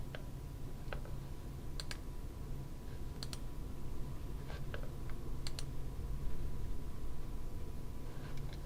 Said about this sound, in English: so I click on the document and I click on restore